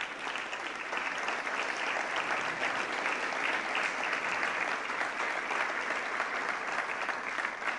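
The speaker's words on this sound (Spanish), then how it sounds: "un aplauso para el señor Santiago Bausili," Sustained audience applause for Santiago Bausili at a business gathering addressed by Javier Milei, dense and steady clapping from a large crowd lasting throughout without pause.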